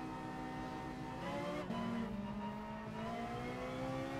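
Race car engine in Gran Turismo Sport on an out lap, a quiet, steady whine that rises and falls in pitch as the car shifts and accelerates, heard alone.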